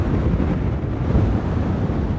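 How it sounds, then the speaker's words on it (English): Very strong wind roars across a volcanic lava field in Iceland, a loud, close, unbroken rumble buffeting the microphone with no speech. "Very strong wind."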